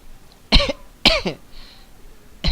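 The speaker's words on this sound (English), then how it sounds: "Sorry for coughing" Two sharp coughs close together, then a third starting at the very end, with quiet pauses between and no talking.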